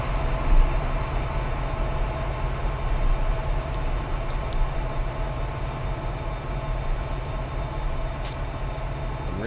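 An Amtrak train in the Run8 train simulator game rumbles steadily past with a constant low drone, rail noise and a couple of faint high tones, sustained at an even loudness.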